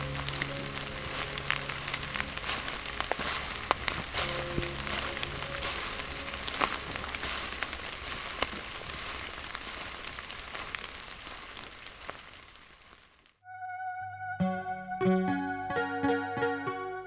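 Rain patters steadily outdoors, a soft continuous hiss of drops on surfaces, then gives way abruptly to a brief stretch of quieter tonal sound near the end.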